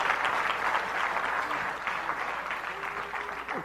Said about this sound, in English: Clap right, that's a good place to clap